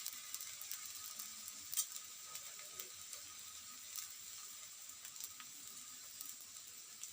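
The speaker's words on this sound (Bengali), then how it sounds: "এই দেখো একটু এপিট ওপিট ভেজে নিচ্ছি যাতে কাঁচা ভাবটা না থাকে।" Pitha frying in a pan, flipped side to side, gives a faint, steady sizzle with soft scattered crackles and one sharper tick, heard alone without voices.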